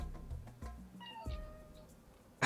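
A cat meows in the video game Worms Ultimate Mayhem with a couple of rising and falling calls amid game effects and a sudden loud burst at the end.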